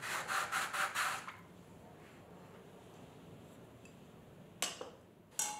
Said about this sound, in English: each pot is given a very quick sand, not enough to make it glassy smooth or to remove the colour